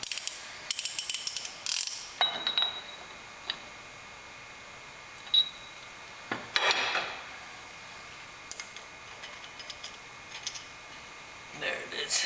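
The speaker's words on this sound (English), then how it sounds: "Tighten my nut just probably about 3 degrees to make it fit." Ratchet clicks and metal clanks while tightening a lug nut on a wheel of an '85 Dodge Ram W350 dually during a Cummins diesel swap, with several bursts of ratcheting spread through, close and moderately loud over a quiet garage background.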